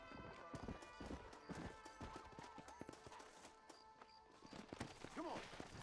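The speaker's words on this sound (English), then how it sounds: "By run, I mean take a horse," A horse in the video game Red Dead Redemption on Xbox trots with a steady, close clip-clop of hooves, and a brief whinny rises near the end.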